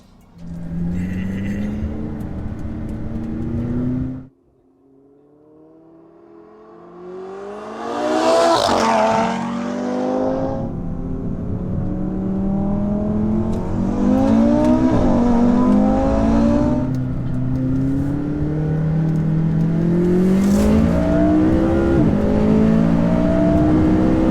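A McLaren 570S and a modified Audi RS3 accelerate hard in a rolling race: loud engine roars climb steadily through repeated gear changes, with a brief lull before the revving resumes strongly and continues to build.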